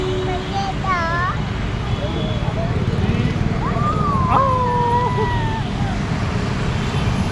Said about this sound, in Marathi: हा डॉग आहे.